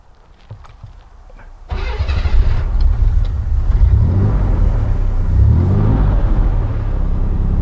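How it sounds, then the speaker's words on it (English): A custom 1988 Chevy shorty van engine cranks briefly, catches, and settles into a loud, deep, rumbling idle that runs steadily close by. "I'm gonna go ahead and crank her up for you and let you hear what she sounds like"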